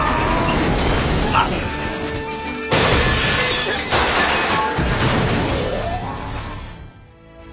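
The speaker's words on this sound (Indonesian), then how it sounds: "Hal itu membuat zirah emas yang dibanggakan olehnya hancur berkeping-keping." Golden armor shatters to pieces in a One Piece anime fight scene, a loud, dense crashing and crumbling that rolls on for several seconds with fresh bursts of debris before fading out.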